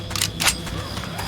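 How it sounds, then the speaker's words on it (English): Weapon reload in Left 4 Dead 2 with Syphon Filter sound effects, two quick close mechanical clacks of a magazine and bolt, short and crisp with nothing else around them. "Reloading!"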